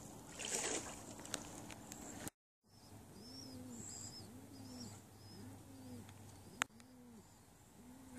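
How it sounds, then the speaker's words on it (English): A pigeon coos repeatedly in a steady rhythmic series near a bay off Lake Superior, fairly close, with faint outdoor ambience and a brief sharp knock partway through. "I think there's a pigeon in there."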